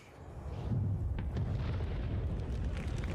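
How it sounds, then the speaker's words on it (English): Explosion in the space game Star Citizen: a deep rumbling boom that swells quickly and holds as a sustained roaring blast for several seconds, with crackling debris layered over it. "Finally, the really cool stuff, explosions."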